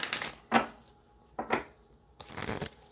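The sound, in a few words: tarot cards being shuffled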